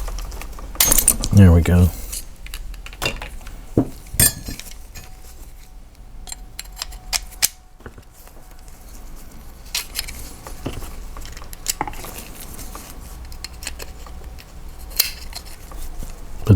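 Metal parts of a half-scale GHK miniature WW2 British Sten submachine gun clink and rattle as the stock is worked loose, with a loud jangling burst early on and scattered small taps after, while someone speaks briefly.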